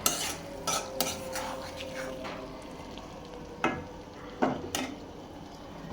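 Beef tripe is stirred in a pan with a hot spice tempering: a scattered run of spoon scrapes and knocks over a low, continuous sizzle.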